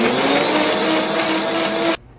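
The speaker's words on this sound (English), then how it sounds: "I like to just take this reconstituted sea moss and put it in the blender" A blender blending reconstituted sea moss whirs loudly at high speed for about two seconds, then cuts off abruptly into near silence.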